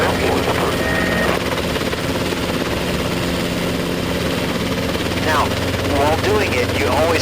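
R22 helicopter rotor and engine droning continuously, loud and close from inside the cabin during a training flight, with a steady rotor beat and brief radio-like chirps near the end.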